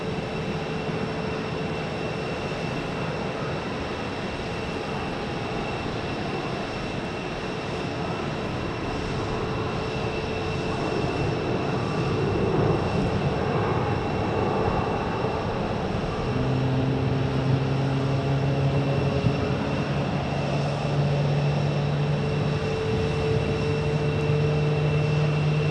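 An airliner arriving at Phoenix airport from Denver, its steady jet engine roar and whine holding throughout at moderate distance, with a low tone growing stronger toward the end.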